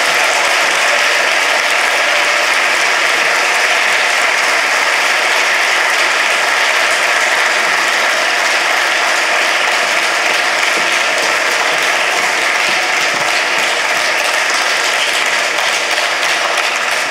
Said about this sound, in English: Now it's time to pose for the cameras with a round of applause.